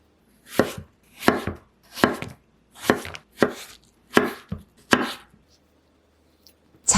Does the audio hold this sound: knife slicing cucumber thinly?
yes